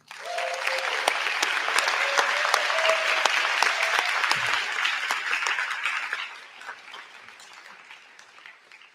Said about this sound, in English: Please join me in giving a round of applause to not only our amazing speakers, but to all these students and the organizers